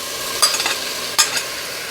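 Seared beef pieces dropped back into a hot pan for carne con chile colorado, sizzling steadily with two sharp bursts of frying as the batches hit the oil, close and loud with no talking.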